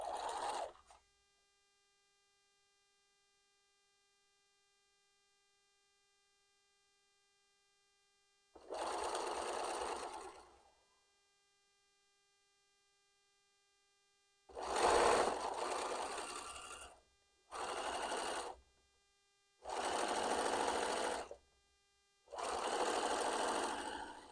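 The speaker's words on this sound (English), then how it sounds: "switch to the camera for the sewing machine, and we're going to go ahead and get this corner done" Sewing machine stitching in several bursts, a steady mechanical whir with a hum, separated by pauses of silence; close and fairly loud.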